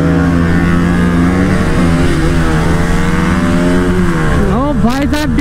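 Motorcycles racing, with a KTM Duke 250 in the lead among an R15M, MT15, RS200 and RC200: a loud, close, continuous engine drone that swells into a rising rev near the end, with a voice faintly under it.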